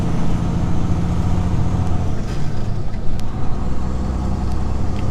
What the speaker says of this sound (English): We are in a manual vehicle, manual semi, which means that Eric is putting the truck into gear.